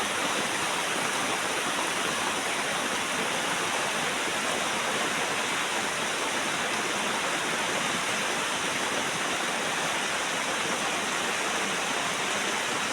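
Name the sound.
heavy rain pouring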